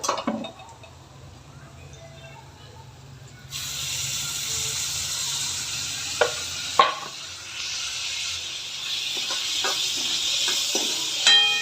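Tomatoes sautéing in a pan over browned onions for a spicy usal sprout curry, a steady close sizzle and hiss that swells louder midway, with occasional spoon stirs and scrapes against the pan.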